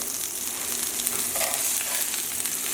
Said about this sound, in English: I'm going to flip those the burgers over.